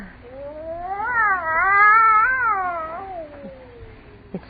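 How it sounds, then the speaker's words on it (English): A cat yowls inside a hushed house, one long rising and falling caterwaul lasting about three seconds, loud and close, ending with a faint tapping knock. "That cat."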